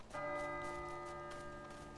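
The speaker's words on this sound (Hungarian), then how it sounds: "4 perc múlva harangoznak." A church bell rings out in GTA 5 Online at seven o'clock, a sustained harmonic peal with a long ringing decay, moderately loud and steady with faint background ambience and no talk.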